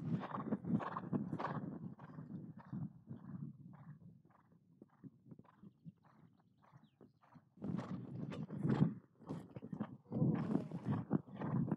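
Horse hooves thudding and clip-clopping during show jumping training, with rhythmic strides that fade quieter in the middle before growing louder and nearer again; soft snorts and no talk.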